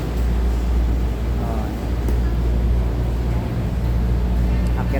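Inside a ship carrying loaded motorcycles, a steady low engine drone and hull rumble fill the space, with faint background activity and no clear speech.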